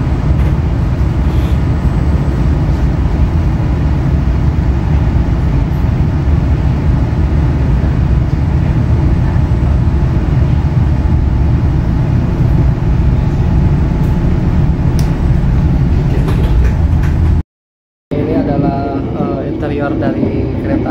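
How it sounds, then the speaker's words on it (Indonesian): The KA Papandayan panoramic train runs on from Bekasi station, a constant loud rumble and rolling roar heard from inside the carriage, briefly cut out near the end before resuming. "KA Papandayan diberangkatkan kembali dari stasiun Bekasi."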